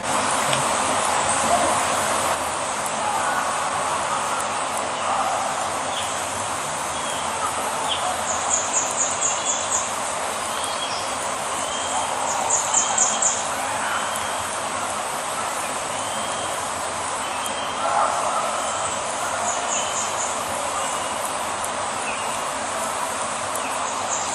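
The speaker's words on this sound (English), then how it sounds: "there's other like bird noises and that sort of stuff going on" Scattered bird chirps and calls sound faintly over a steady outdoor hiss, with occasional brief bursts of twittering at a distance.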